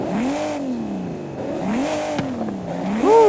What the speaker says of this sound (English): The first comparison of these cars is gonna be a sound comparison. Which V12 sounds better?